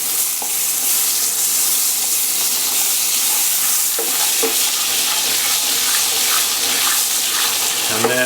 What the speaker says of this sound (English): Now I'm going to get that butter a little bit brown, like it's nut brown.